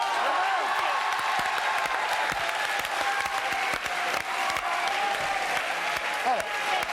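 A French television studio audience applauds a winner, with dense, sustained clapping at moderate loudness throughout, voices faintly mixed in beneath.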